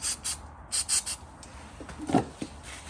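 A Ford F150's brake hardware is scraped smooth with a hand tool: a handful of quick, rhythmic rasping strokes up close, followed by quieter scuffing.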